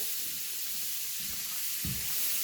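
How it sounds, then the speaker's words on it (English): Butter melting in a hot pan with toasted nuts, a steady broadband sizzle with a few louder crackling bursts, close and continuous with no talk. "And in goes the butter."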